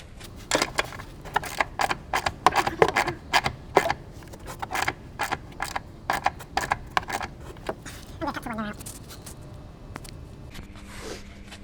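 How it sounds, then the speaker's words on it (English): Stubborn strut bolts being worked loose on an Alfa Romeo MiTo during a coilover install: a dense run of sharp metallic clicks, creaks and ratcheting bursts, close and fairly loud, with no speech. "we're going to take out these two bolts"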